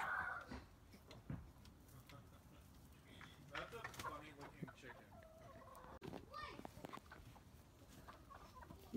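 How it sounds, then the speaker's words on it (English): Backyard chickens, including new birds, one stuck while trying to get out, cluck and call nearby in short, irregular bursts while people talk in the background. "one of the new chickens tried to get out and seems to be stuck"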